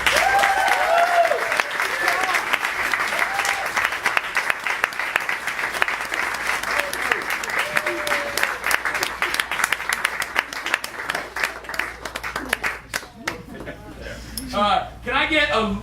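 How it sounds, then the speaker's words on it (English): An improv comedy audience gives a round of applause: dense clapping that rises, holds, and thins out with a few lingering claps, while voices and a speaker's talk run underneath and emerge as it fades. "please give a round of applause, even though they have no human emotions"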